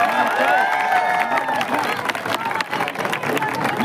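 A crowd at an outdoor political victory celebration at Jantar Mantar claps and cheers together, loud dense applause mixed with shouting voices and crowd noise that rises and falls.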